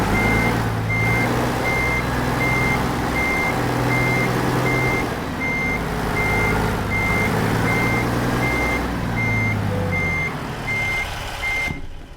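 In American Truck Simulator, a truck's reversing alarm beeps in a steady, evenly spaced pattern over a low diesel engine rumble, close and prominent throughout.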